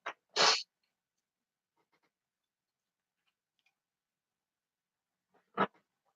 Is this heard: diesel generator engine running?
no